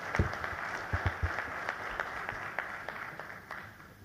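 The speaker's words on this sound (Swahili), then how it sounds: "makofi tafadhali" Audience at a formal ceremony with ministers and ambassadors clapping for about four seconds, a moderately loud but thin patter of hands with a few sharper, distinct claps standing out.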